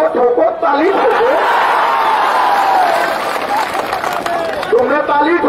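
Rally crowd at a political speech clapping and cheering loudly and continuously, a dense roar of hands and voices with shouting mixed in throughout.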